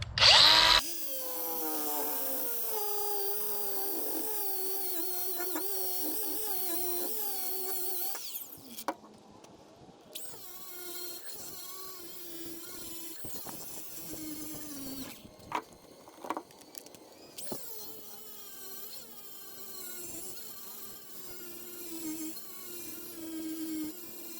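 A power tool grinds off old weld from a cylinder fitting on a Bobcat Bobtach, a continuous high whine that varies in pitch and pauses briefly midway, loud and close with no speech.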